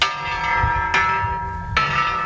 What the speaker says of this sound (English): Tell me that's a dinner bell.